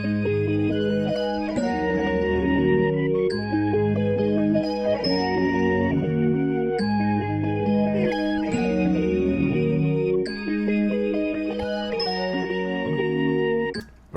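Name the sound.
M-Tron synth patch Forest Bells and Flute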